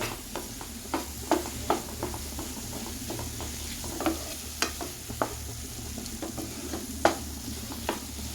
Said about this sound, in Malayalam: ശകലം ചില്ലി സോസ്, കുറച്ച് ടൊമാറ്റോ സോസ് എന്നിവ ചേർത്ത് മിക്സ് ചെയ്ത്